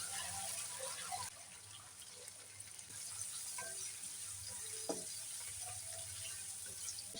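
Chicken pieces fry in a pan with garlic and chopped onion for restaurant-style chicken fried rice, giving a steady, soft sizzling hiss with a few small pops and crackles.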